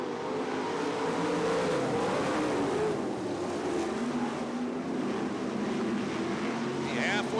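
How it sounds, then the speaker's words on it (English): Sprint cars roar off at a dirt-track green flag start in a Wisconsin championship race, a dense, distant engine drone rising and swelling under an announcer's steady commentary. "throttle down and away we go"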